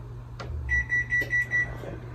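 A kitchen oven beeps five times in a steady, evenly spaced run of short electronic tones, clear over a low background hum.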